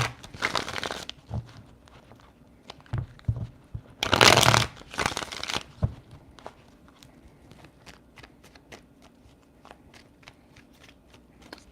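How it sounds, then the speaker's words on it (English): Tarot cards are shuffled in several bursts of riffling and shuffling, with a loud, dense stretch in the middle, then lighter handling ticks and rustles that trail off near the end, close up. "Three shuffles."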